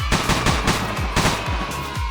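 Repeated explosions and gunfire-like blasts from a grenade launcher in a Unity first-person shooter game, a rapid series of loud, punchy bursts close up with no voices.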